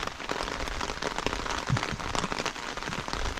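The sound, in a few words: rain falling on an umbrella in Guam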